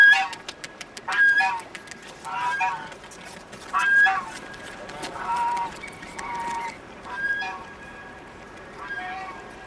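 Geese along a city stream, the Yudeungcheon, honking in repeated nasal calls spaced a second or two apart, fairly close and loud over a faint outdoor background.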